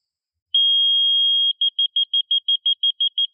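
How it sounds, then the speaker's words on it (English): A construction laser level receiver beeps loudly at the benchmark during cabin foundation layout: one long steady tone, then a rapid run of short evenly spaced beeps, clean and close with no other sound. "it will make a really loud beep when you are there"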